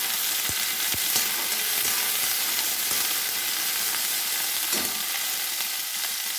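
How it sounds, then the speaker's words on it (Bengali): Okra fries in hot oil in a pan, a steady close hiss and sizzle that runs throughout, broken by a few soft knocks and stirring sounds. "সব একবারে আমি ভেজে নেব, একটু ভালো করে ভেজে নেব।"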